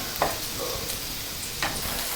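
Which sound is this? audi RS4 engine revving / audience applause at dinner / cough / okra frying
okra frying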